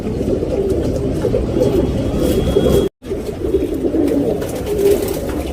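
A male Surmai tournament pigeon coos in low, throaty, repeated calls close by, with a brief dropout partway through and faint background noise.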